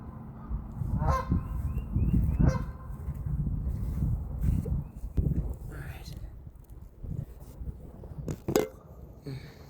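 Geese squabble at a pond, letting out a few sharp honking bursts amid scuffling and splashing while a person speaks quietly nearby.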